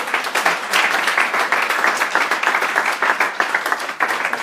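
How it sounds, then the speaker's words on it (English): Sustained audience applause at a live teaching event in Abuja: dense, steady clapping from many hands, loud and close, holding level for several seconds with no talk over it. "Because I need you to give this guy a big round of applause."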